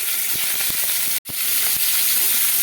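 Rohu fish pieces hit hot mustard oil in a pan, producing a loud, close, continuous sizzle with small crackles throughout and one brief dropout in the middle.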